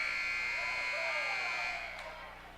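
Basketball game buzzer sounding the end of the first quarter at a girls' high school game, a loud sustained electronic tone lasting well over a second over crowd noise, then cutting off as the gym murmur fades.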